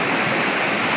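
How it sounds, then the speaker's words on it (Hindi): Fast, heavy water rushes at a hidden waterfall deep in dense jungle, a loud, continuous broadband roar with no pauses. "बहुत तेज पानी का बहाव बहुत तेज है गाइस"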